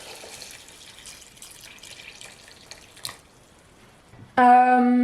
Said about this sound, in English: And now I'm just gonna top it up with some water.